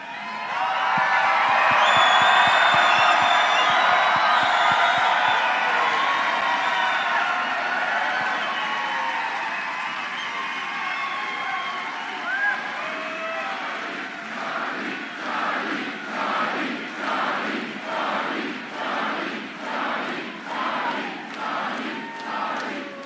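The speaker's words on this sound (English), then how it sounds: "If you don't have a sign, just give a yell. Let's cheer it up real loud for Charlie." Large crowd at a Utah political rally cheers and yells loudly, a sustained roar that gradually gives way to rhythmic clapping and shouts toward the end.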